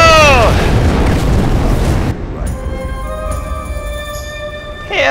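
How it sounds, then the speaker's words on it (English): A bazooka blast from the World War II shooter Sniper Elite 4 booms loud and heavy at the start, roaring with broad rumble for about two seconds before giving way to quieter game tones. "Bazooka in your face!"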